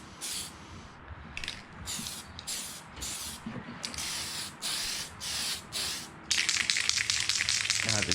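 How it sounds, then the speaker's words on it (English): Spray paint can misting onto an RC car body in bursts, several separate hissing sprays of a few seconds each, close and fairly loud, ending in a longer continuous spray, with no talking. "It's not spraying right."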